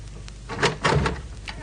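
A door being tried and pushed open at a run-down place during a radio comedy sketch, heard as a short creak and thump with a couple of soft knocks, fairly close and moderately loud.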